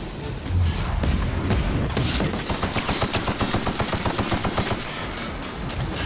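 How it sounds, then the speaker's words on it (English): Rapid automatic gunfire rattles at the player in Fallout: New Vegas (Old World Blues), a dense, steady stream of close shots running several seconds before easing off, alone without talk. "Wait, who's shooting me?"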